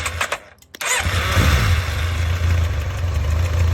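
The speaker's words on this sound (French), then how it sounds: "on entend un cliquetis quand je démarre" A motorcycle engine with an unstable idle cranks briefly, fires up and settles into a loud, steady close-up idle with a fine ticking clatter running underneath.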